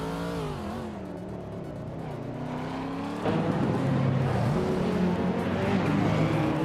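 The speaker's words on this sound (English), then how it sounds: "Maya is driving a Maserati Ghibli from 1996" A 1996 Maserati Ghibli racing car engine in a racing video game revs and climbs through the gears, its pitch rising in steps and then jumping to a louder, busier roar partway through.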